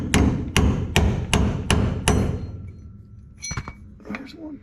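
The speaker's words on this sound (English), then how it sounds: "I gave that a nice smack with the hammer, the brass hammer without a nut on it" Brass hammer striking a bolt on the front leaf spring of a 1961 International C110 truck: six loud, evenly spaced metallic blows ringing close up, followed by a few lighter clanks and knocks.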